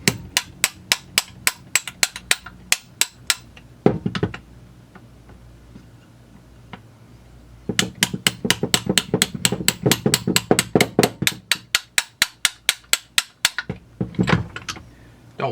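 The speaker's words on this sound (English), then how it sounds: "Hammer out the wrist pin." Sharp metallic hammer taps driving the wrist pin out of a Husqvarna 346xp chainsaw piston, close and loud, in quick even bursts separated by short pauses, with a few heavier knocks.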